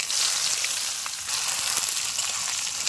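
Onions fry in hot oil with bay leaf and whole garam masala for yogurt mutton. A continuous bright sizzling hiss runs close and steady, with faint stirring clicks and no talk.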